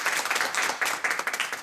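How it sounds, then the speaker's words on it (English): Audience applause after a talk on goals, a dense patter of many hands clapping at steady loudness for under two seconds with no voices. "So let's give Wayne another round of applause."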